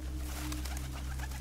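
A pigeon coos softly against a noisy, steady background, low muffled calls rising and falling over about a second and a half.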